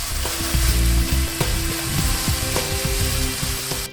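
Chopped onion frying in a pan for a creamy one-pot chicken pasta, a loud continuous sizzle with scraping and knocking as it is stirred, close up and without talking.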